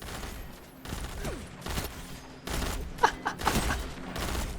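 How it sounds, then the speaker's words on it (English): Gunfire in a first-person shooter match, including a sniper rifle shot among several sharp bursts and booms in the second half, over a busy game background with no talk. "that's a sniper"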